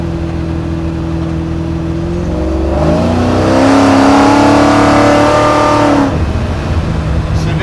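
A garage-built supercharged stroker Mustang drag car pulls hard, its engine note climbing steadily into a loud roaring rev before lifting off, heard close from inside the car.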